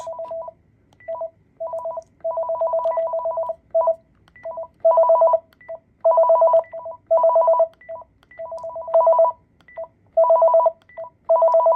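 A Panasonic KX-TGL463 cordless phone base and handset ring in repeated chirping bursts, two ring patterns overlapping and alternating in an irregular rhythm, clear and close with no voices.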